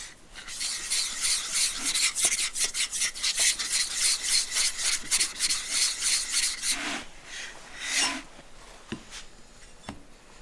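A 300 grit diamond plate is rubbed over a 16,000 grit sharpening stone to flatten it. Close, steady back-and-forth rasping strokes fall in a regular rhythm, then slow to a few separate scrapes near the end.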